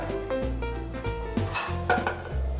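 Spices being roasted and stirred in a pan for a Maharashtrian kanda giravi onion curry: repeated close scraping and clinking of a spoon against the pan's metal, with faint sizzling underneath and no voices.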